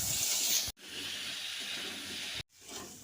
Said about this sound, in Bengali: এবার এটা একটু লাল করে ভেজে নেব।